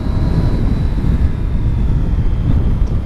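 Triumph Street Triple S motorcycle engine droning steadily while riding through curves on a road route, a continuous loud low roar mixed with rushing wind over the microphone.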